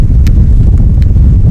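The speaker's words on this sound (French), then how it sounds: "je pense que vous entendez, il y a un vent de ouf" Strong Patagonian wind buffets the microphone in a loud, low, gusty rumble that pulses irregularly, with a few brief crackles and no voices.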